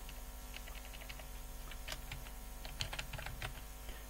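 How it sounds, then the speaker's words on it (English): Computer keyboard typing while entering a project name in a KoboToolbox form: irregular quiet clicks and short bursts of keystrokes over a steady low hum, with no voice. "let me just type now tutorial"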